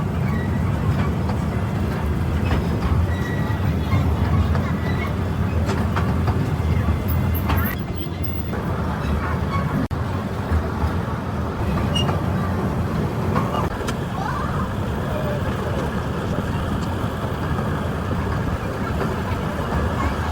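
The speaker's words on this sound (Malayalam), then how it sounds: "അക്വേറിയം കൂടെ കണ്ടതിന് ശേഷം ട്രെയിനിൽ തിരിച്ചു വരികയാണ് ചെയ്തത്." Train ride back from an aquarium visit near Khalifa Park, with a steady low rumble and rattle of the moving carriage throughout and voices talking in the background.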